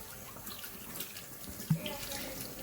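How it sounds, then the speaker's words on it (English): Food, likely potatoes or ribs, rinsed under a running tap, a steady soft stream of water splashing into a sink with occasional louder spatters, fairly quiet and close. "I'm just gonna be washing it."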